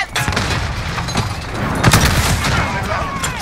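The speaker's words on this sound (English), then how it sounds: "Grenade out! Molotov out!" Grenade and molotov explosions boom amid rapid gunfire in Call of Duty: Modern Warfare on the Shipment map, a dense, loud barrage of blasts and shots.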